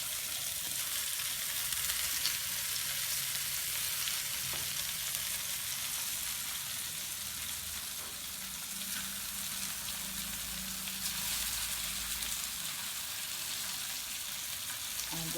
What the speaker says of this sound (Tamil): இப்போது நம்ம கருவாடு ஒரு பக்கம் கருவாடை வறுக்கலாம்.